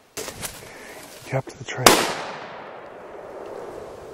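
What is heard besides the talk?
rifle shot from a .458 at a charging bull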